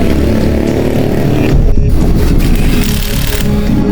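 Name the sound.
motorcycle engine running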